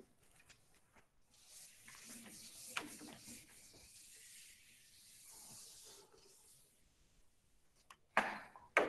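A duster rubs writing off a classroom board in several faint scraping strokes, followed by a couple of sharper knocks near the end.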